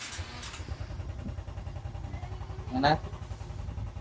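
A Suzuki Smash 115 motorcycle, freshly top-overhauled with carb cleaned and new chain set, runs at a steady idle with a low, rapid engine putter throughout, rising briefly near the end while someone speaks over it.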